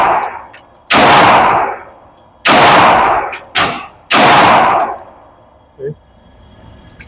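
Loud gunshots from a Rock Island Armory .45 ACP pistol fired with iron sights at a match, four sharp reports spaced roughly a second apart, each ringing into a long decaying echo, with a brief voice near the end.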